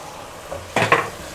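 Spices and tomato frying in a pan for a potato and spinach curry, with a short sizzle and stirring scrape partway through, close and brief, no talking.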